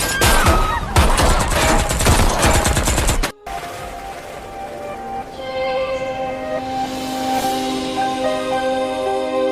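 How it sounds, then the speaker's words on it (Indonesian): Gunfire from an armed group in the crime film The White Storm 2: Drug Lords: dense, loud bursts of rapid automatic shots for about three seconds, then a sudden cut to ringing, sustained tones. "datang sekelompok orang bersenjata menembaki mereka, yang membuat istri Tin terbunuh di sana"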